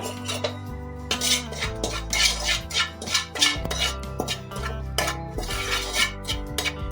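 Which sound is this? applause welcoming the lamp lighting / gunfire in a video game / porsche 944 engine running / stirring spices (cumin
stirring spices (cumin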